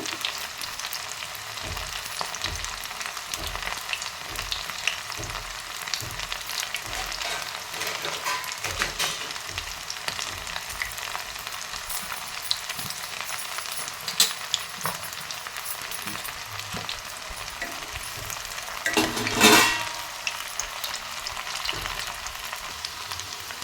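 Cauliflower gobi pieces deep frying in hot oil, a continuous close crackling sizzle with occasional stirs and one brief sharp burst near the end, no voices.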